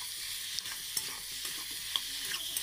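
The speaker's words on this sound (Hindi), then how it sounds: "अब चलिए मैं इसको मिक्स कर देती हूँ" Spice masala with tomato being stirred in a hot frying pan for jackfruit curry, a close steady sizzle with soft scraping strokes of the spoon at irregular intervals.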